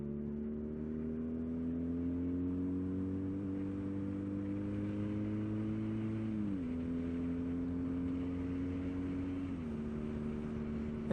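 A BMW R nineT motorcycle engine drones steadily and close, its pitch rising slowly and then dropping sharply twice as it shifts through gears, with no voices.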